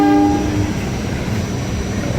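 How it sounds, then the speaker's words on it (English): A Staten Island Railroad R-44 train horn gives one short, loud blast at the start, then fades into steady rumbling railcar noise without voices. "That's a real train horn."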